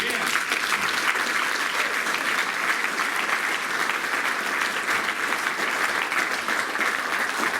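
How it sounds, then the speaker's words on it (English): Sustained applause from a dinner audience honoring a basketball coach, a dense, steady wash of many hands clapping at a constant level for the whole stretch, with no talk over it. "a round of applause for Coach"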